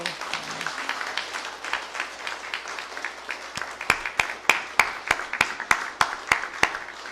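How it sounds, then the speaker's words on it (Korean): A church congregation claps in congratulation at a baptism service, a soft, scattered patter that later gives way to a few sharp, evenly spaced single claps standing out near the microphone. "축하의 박수 한번 보내드리세요"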